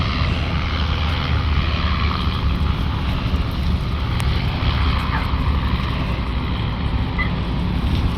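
A Twin Otter propeller airplane flies near Fort Bragg with a loud, steady engine drone and wind noise, while people talk faintly nearby.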